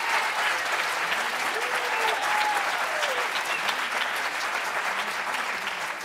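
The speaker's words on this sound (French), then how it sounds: "je vous demande de les applaudir, s'il vous plaît" Sustained applause from an audience at an evening apprentice stage show in Château-Gontier, dense steady clapping throughout with a few faint voices rising underneath.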